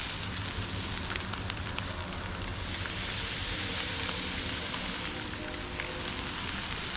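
Small crappie fillets fry in hot butter and grease in a pan, a dense, steady sizzle with fine crackling pops throughout, close up with no talking.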